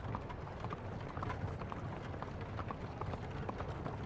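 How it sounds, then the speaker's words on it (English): Footsteps sound in a hallway at night in a haunted house tale, a steady run of dull, evenly paced footfalls over a rough, noisy background, with no voices. "I heard footsteps in the hallway that startled me."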